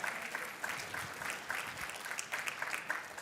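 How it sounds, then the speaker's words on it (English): An audience claps together at a talk on minds of all kinds, a steady wash of applause with regular swells, moderately distant and unbroken by speech. "Let's hear a round of applause for quality control."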